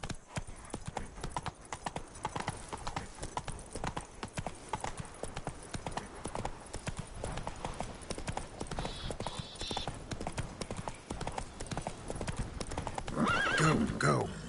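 A horse gallops with rapid, steady hoofbeats in The Witcher 3, close and loud, and lets out a neigh near the end while a voice talks over it.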